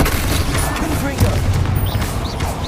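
Confringo blasting spell explosions in Hogwarts Legacy, a dense rumbling barrage of booms with high magical whistling sweeps, loud and continuous, with voices mixed in.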